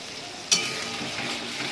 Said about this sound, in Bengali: এই মশলাটা কিছুক্ষণ কষিয়ে নিয়েছি আমি ভালো করে।